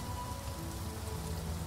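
Heavy rain in The Witcher video game: a dense, steady downpour hissing on surfaces, continuous and even for the whole short stretch, with no voices.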